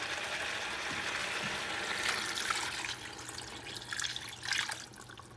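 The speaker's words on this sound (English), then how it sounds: "Now you add the broth or stock or water or combination." Liquid broth pours and splashes into a pot of Puerto Rican chicken stew, a continuous watery trickle with a few brighter splashes near the end, close and moderately quiet.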